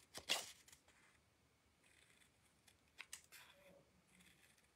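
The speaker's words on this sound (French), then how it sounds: "on prend les ciseaux" Scissors snip a few times, with one sharp cut near the start and lighter clips later, close and quiet in a calm room.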